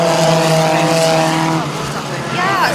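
Royal Enfield Continental GT race motorcycles in a cup race at the Indian Racing Festival pass by with loud, droning engine whines that sweep and fade, followed by a rising, pitch-bending whine as another bike approaches; commentary talk runs over it.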